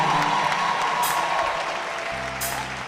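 Applause from a congregation at a Christian worship and praise service, a short burst of steady clapping at moderate loudness with crowd murmur beneath.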